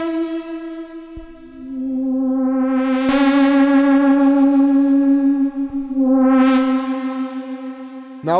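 A synthesizer pad built from two detuned oscillators, drenched in reverb, holds a bright sustained chord while filter sweeps rise twice, with soft clicks between the swells.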